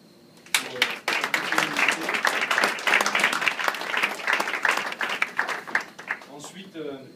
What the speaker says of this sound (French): je voudrais qu'on applaudisse surtout Agnès